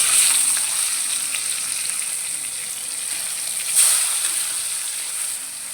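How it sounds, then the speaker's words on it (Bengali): Tilapia fish fry in hot oil with a loud, bright, continuous sizzle close by, swelling briefly once partway through as the oil spits. "তেলাপিয়া মাছগুলো ভেজে নিব।"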